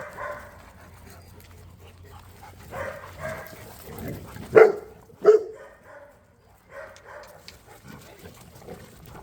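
Kennel dogs bark and yip excitedly, a few loud close barks standing out among softer whimpers and yips, with someone talking intermittently around them.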